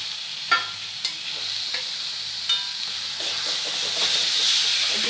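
Chicken pieces go into frying masala for a chicken biryani, producing a steady, close hiss and sizzle with a few sharp scrapes and knocks from stirring.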